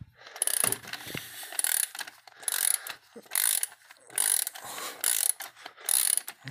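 A ratchet turns a thread repair tool in a head bolt hole of a Toyota Camry engine, giving repeated close clicking bursts in an uneven back-and-forth rhythm, with no talk over it.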